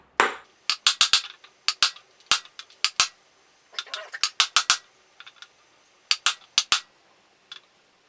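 Sharp metallic taps from a hammer striking a socket to drive in a wheel bearing on a Honda Bros NT400 motorcycle, coming in quick irregular bursts with brief pauses, close by and with no talking.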